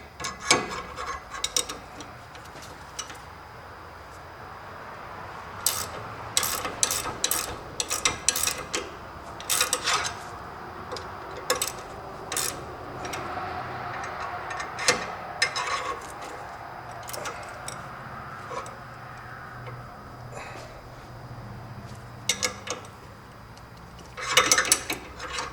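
A ratchet wrench tightens a sway bar link bracket on a Jeep Wrangler TJ or Cherokee XJ, giving bursts of quick, sharp clicking strokes at close range, separated by pauses with faint handling noises.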